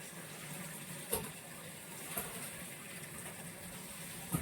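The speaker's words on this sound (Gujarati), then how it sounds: "પાણી ચાલુ થઈ ગયું." An automatic watering system fills cattle troughs with a steady, faint rush of flowing water, heard alone with a few light knocks.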